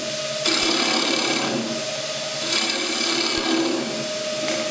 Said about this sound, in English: I'm going to hollow out underneath there.